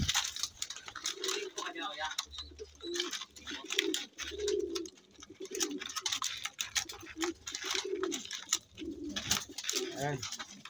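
Pigeons coo repeatedly in low, throaty bursts while people talk nearby, with clicks and rustling throughout.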